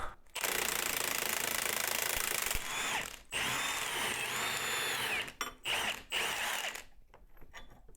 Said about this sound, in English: Once it gets going, just hit it with the gun.